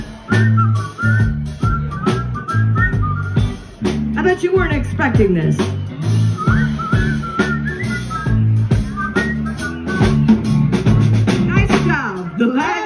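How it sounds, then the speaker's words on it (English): Audience whistling carries a tune over steady live band music at an outdoor fall festival, with a voice speaking briefly in between. "When was the last time you whistled? Come on, whistle."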